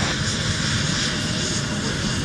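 Aircraft at MSP airport give off a loud, steady engine roar that holds level throughout, with no talking.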